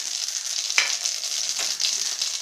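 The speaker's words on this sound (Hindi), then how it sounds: "राई फूटने लगी है" Mustard seeds, cumin and a pinch of asafoetida crackling in hot refined oil, a continuous close sizzle with a few sharp pops.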